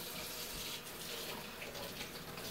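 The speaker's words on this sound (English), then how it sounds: "I'm just gonna rinse off these squirrels with some cold water." Cold tap water pours steadily over freshly caught grey squirrels in a sink, giving a constant, fairly quiet splashing rush with no pauses.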